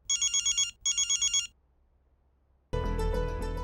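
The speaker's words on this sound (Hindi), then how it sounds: "बहन ये तेरे लिए फोन आया है" A telephone rings on a TV drama set, two bursts of a bright trilling electronic bell with a short gap, then a silence before a loud burst of background music takes over.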